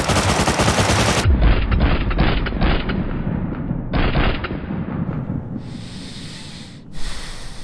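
Rapid automatic gunfire in the video game Rust, loud and close, a dense burst of shots for about a second followed by a ringing, muffled stretch of scattered impacts and breathing-like noise.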